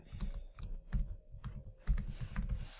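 Someone types a SQL statement on a computer keyboard at a command prompt, giving close, crisp, rapid keystrokes in quick bursts with a brief pause midway and no talking.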